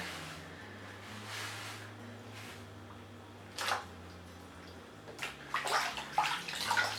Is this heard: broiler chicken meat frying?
no